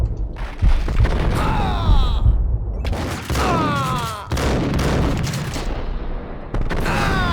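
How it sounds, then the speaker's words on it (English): Shotgun blasts in the Max Payne game boom in a tight burst of several loud, close shots with rattling echoes, separated by short gaps and overlaid with game effects. "Pump that shotgun, Max."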